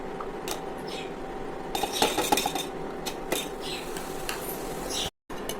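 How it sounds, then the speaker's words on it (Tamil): A spoon stirs gently through melted soap base in a metal pot, giving light scraping and occasional soft clinks of metal on metal, faint and close, with a low voice in the background. "கொஞ்சம் லைட்டாக ஸ்பூன் வச்சு கலரணும், ரொம்ப கலரக்கூடாது, பபிள்ஸ் ஃபார்ம் ஆகிடும்."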